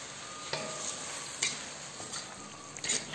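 Mung bean sprouts with pork and soy sauce stirred in a pan, a quiet steady sizzle with a few soft scraping strokes of a utensil, faint and close.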